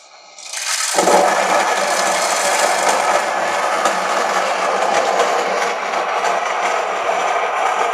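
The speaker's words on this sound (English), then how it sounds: "let's see how long it takes to grind the coffee" An Xbloom coffee machine grinds 15 grams of coffee beans into a catch cup, a steady loud whirring grind that starts after a brief quiet moment and continues without a break.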